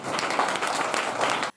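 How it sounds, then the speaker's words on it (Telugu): An audience claps together at a public program. The dense applause is steady for about a second and a half, then cuts off sharply. "అందరూ ఒక్కసారి క్లాప్స్."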